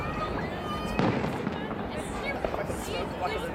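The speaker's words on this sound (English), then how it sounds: "I like the ones that blow up and then there's the rockets that like pop." Canada Day fireworks bursting over a city waterfront, a steady crackling barrage with louder booms and popping rockets, crowd voices chatting underneath throughout.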